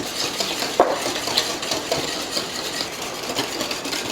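Cake batter for a salted caramel spice cake is mixed by hand in a bowl, giving soft, continuous scraping and stirring with a few light clinks against the bowl.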